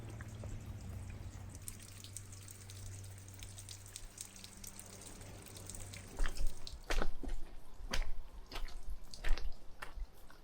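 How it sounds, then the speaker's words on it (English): Water trickles and drips steadily down the slopes of Knocknarea in a glen near Sligo, Ireland, a continuous close wash with scattered louder drips and splashes building toward the end. "Water is constantly trickling down from Knocknarea."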